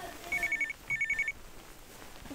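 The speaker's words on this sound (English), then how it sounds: "Now the phone's ringing." A telephone rings in a horror video game, two bursts of electronic trilling bells separated by a short pause, fairly clear over a quiet background.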